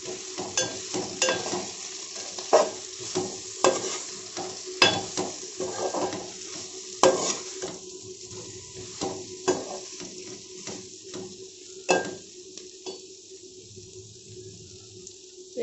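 Bitter gourd and onion fry with chilli sizzling in a pan, with a spoon repeatedly scraping and stirring in irregular clattering strokes over a steady frying hiss, close and fairly quiet, no talk.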